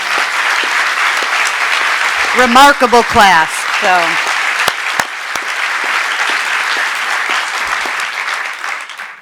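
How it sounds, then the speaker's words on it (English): Applause fills a hall at an awards ceremony, steady and full for the whole stretch, while a voice speaks briefly over it partway through. "let's give one more round of applause to this incredible 10th"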